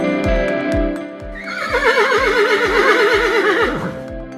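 Horse neighing loudly and close, a long wavering whinny over a steady rhythm of clip-clopping hooves.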